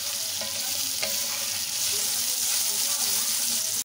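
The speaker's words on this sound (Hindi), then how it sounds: "फिर दाल डाल दूँगी, उसको भूनेंगे।" Lentils sizzle in a hot pan with crushed red chilli, cumin and dried coriander, a steady close frying hiss with faint stirring scrapes throughout.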